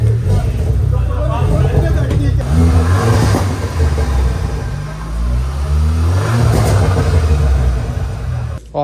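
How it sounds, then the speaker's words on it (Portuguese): A Volkswagen Jetta with a Stage 3 tune and a fitted flutter valve revs loudly outdoors, its engine note climbing and falling in repeated pulls while people talk nearby. "Sai, vai lá fora pra gente gravar o ronco, porque pra trocar DV mais precisa estar com o motor frio."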